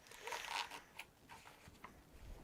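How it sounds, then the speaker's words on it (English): A metal zipper pull slides along a zipper on fabric being prepared for sewing, a few soft, close scratchy rasps and short clicks, faint and alone. "I want to make sure that my zipper is not in the middle, so I'm going to move it to this side"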